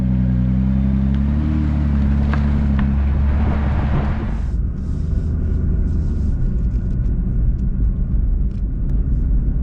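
A 2020 Nissan GT-R on the road gives a deep, steady engine and road rumble from the cabin, with a brief louder surge in the first few seconds before settling into a smooth, continuous drone.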